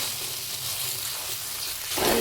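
Mashed carrot halwa frying in a kadai, a steady close sizzle with faint stirring throughout and no talking.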